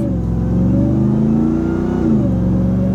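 Loud, steady engine whine from a 2023 Ram TRX Havoc Edition pickup truck, heard close and continuous with slight rises in pitch as it revs, with no talking over it.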